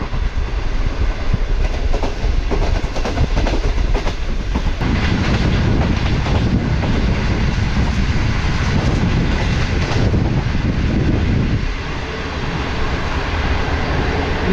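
Green Line Express passing Sahiwal railway station, a steady loud rumble of wheels and carriages with rhythmic clatter running the whole time, easing slightly near the end.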